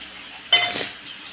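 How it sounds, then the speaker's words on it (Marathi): A metal pan set down on a kitchen stove before cooking kharda chicken: a single short clink of metal, close and fairly clear, over a quiet background. "आता आपण ह्याला खरड्यासाठी आपण पॅन ठेवणार आहोत।"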